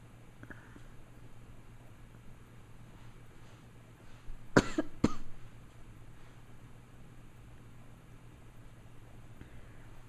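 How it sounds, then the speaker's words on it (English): Two sharp coughs in quick succession break a quiet stretch midway, with only a low steady hum before and after. "My camera person has a cough."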